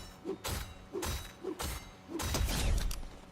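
In the video game Fortnite, a gold crowbar pickaxe strikes four times at an even pace, each a sharp thud with a metallic clank, and the last hit is followed by a longer rattling impact.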